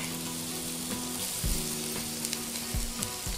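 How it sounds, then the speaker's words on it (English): Ginger, lemongrass and garlic dropped into hot oil in a pan for fish ball porridge, sizzling and frying steadily with a few stirring knocks and scrapes, close and clear, no talk. "oil is nice and ready. Ginger, lemongrass, and then lots of garlic."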